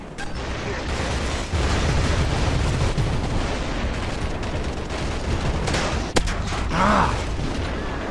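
Gunfire and explosions in a shooter video game, a dense, loud barrage of blasts and shots running continuously throughout with a sharp crack near the end.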